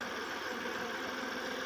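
A 5245 tractor engine idles with a steady, even, low mechanical rumble, heard alone and close by for under two seconds.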